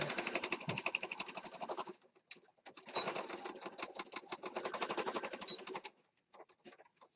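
Sewing machine stitching the corner of a junk journal: rapid, buzzing needle runs in two sustained bursts with short stops between, close and fairly quiet.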